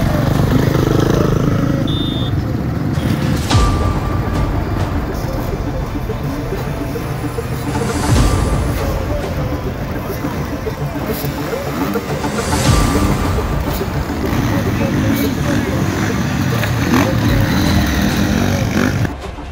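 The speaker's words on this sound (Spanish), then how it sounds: "Señora y caballeros, arranquen los motores" Enduro motorcycles revving at the start of a NOA championship round in Orán, a loud, dense engine roar with rising and falling throttle bursts continuing throughout, mixed with crowd noise.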